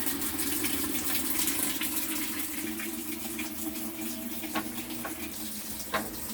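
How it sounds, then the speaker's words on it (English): Steady rushing of water filling an Amana washing machine tub, a continuous hiss with low rumble and a few faint knocks and clicks as the lid fails to lock, no voices. "So the water is filling up."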